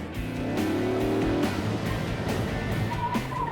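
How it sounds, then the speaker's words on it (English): A chase car with tacks stuck in its tires drives on at speed, a steady engine drone with tonal whine, rolling tire noise and faint repeated ticks, loud and close throughout. "the chase car shows no signs of losing momentum"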